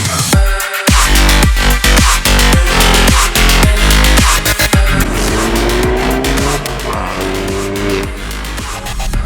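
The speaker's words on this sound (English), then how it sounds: "Today we are driving something that I've wanted to drive for literally forever, the i30N by Hyundai." A 320 bhp Hyundai i30N hot hatch drives hard, its engine loud and continuous from start to finish, with sharp revving bursts and a steady roar close by.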